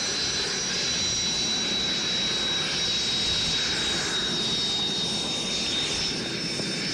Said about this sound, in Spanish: El helicóptero de las Fuerzas Aéreas Venezolanas, el sitio donde estamos